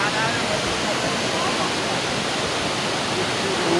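Cachoeira de Monjolo in Santo Aleixo pours in a loud, steady broadband rush of falling water, constant and close, with no break across the short stretch.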